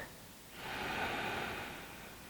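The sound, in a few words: slow belly breathing, deep breath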